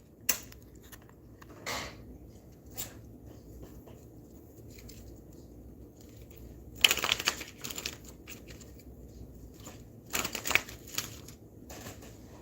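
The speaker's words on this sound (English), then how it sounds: "Let's pull more cards." Tarot cards are shuffled and pulled, with scattered soft flicks and two louder bursts of riffling, close by against a quiet room background and no talking.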